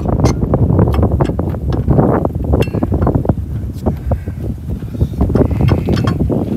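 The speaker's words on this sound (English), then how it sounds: "Sorry about the wind, guys. It's super windy." Loud, constant wind buffeting a microphone, with rumbling low gusts and scattered sharp clicks throughout, no clear voices.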